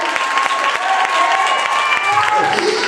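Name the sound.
church congregation clapping hands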